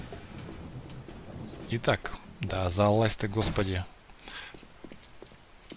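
Thunderstorm with steady rain and rolling thunder in the 7 Days To Die video game, the rumble swelling loud in the middle of the clip under a man's speech, with the rain hiss continuing throughout.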